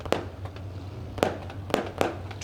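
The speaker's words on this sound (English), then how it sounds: "More fireworks lighting up the sky" Fireworks bursting over a dirt race track ahead of a crate sprint car feature, four sharp booming cracks at irregular intervals over a steady low crowd and engine rumble, fairly distant.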